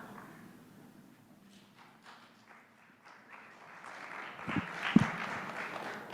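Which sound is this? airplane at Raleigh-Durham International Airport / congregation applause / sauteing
congregation applause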